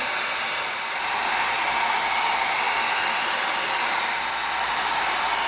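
A heat tool blows hot air steadily over EVA foam to seal its surface, a constant loud airy roar with no pauses or talk.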